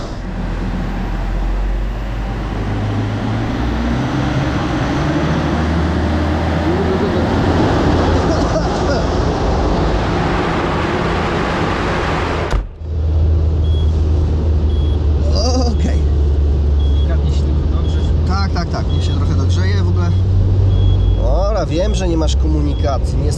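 Fiat Ulysse 2.0 JTD diesel engine idling while warming up, a close, low continuous rumble that drops briefly midway and then resumes, with people talking over it throughout.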